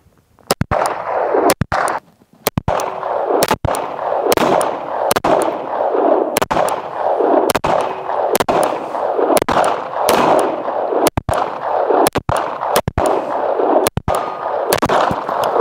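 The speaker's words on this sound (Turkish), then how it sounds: "atışa hazırız" Pistol shots fired at a range crack out one after another at a steady, roughly even pace, loud and close, about twenty sharp reports over a constant rumbling background.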